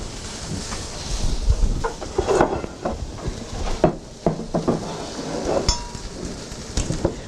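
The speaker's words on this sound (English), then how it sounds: "So we're going to put it in a 9-inch square pan." A mixed batter is scraped and spooned into a 9-inch square pan in a kitchen, giving uneven soft scrapes, taps and light clinks of utensil against pan at close range, without talking.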